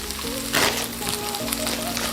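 Kale, sliced carrots and vegan protein sizzling in a pan with black bean paste and miso, giving a steady close frying hiss with a brief burst of louder crackle as the food is stirred.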